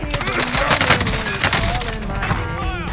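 Gunfire in the video game Warzone: a dense, continuous burst of rapid shots and a fusillade of overlapping reports, loud and close, with game effects layered over it.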